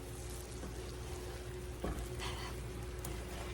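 Eggs fry in a pan for breakfast tacos with a soft, continuous sizzle, and a spoon or spatula stirs them gently, adding brief scraping touches near the end, all fairly quiet and without talk.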